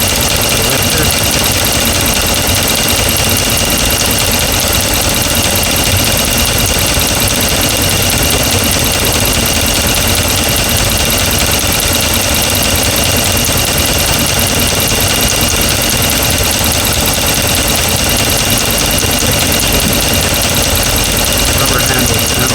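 The 5.7-litre engine of a 2009 Ram pickup idles after a rebuild, with a lifter tick on the number one intake, loud and close, a dense steady rumble and clatter without pause.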